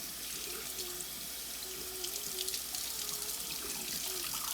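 Warm water runs steadily from a tap for a cat's bath, a faint continuous splash and trickle at moderate distance with no talk.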